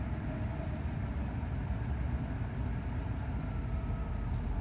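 A Mercedes SL500 with a throttle control fault idles with a low, steady engine hum, quiet and even throughout, with no talking.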